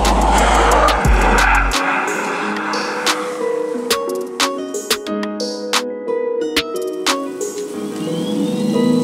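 Skoda Enyaq RS iV electric SUV swerving through an evasive lane-change test, with loud rushing road and tyre noise, a sharp impact-like burst early on, then a steady drone overlaid with repeated ticking and tonal whine.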